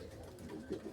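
A tired racing pigeon, just home after four days from an 889 km race out of Quilpie, coos softly in a low, continuous murmur, with a slightly louder swell near the end and no talk.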